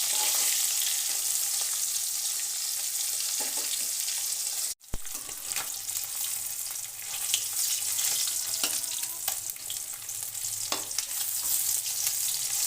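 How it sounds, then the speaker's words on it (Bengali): Koi fish frying in a pan of hot oil, a steady loud sizzle and crackle that runs throughout, broken once by a brief dropout, with occasional light stirring or turning sounds and no talking. "এইভাবে উল্টে দিয়ে মাছগুলো ভেজে উঠে নিই"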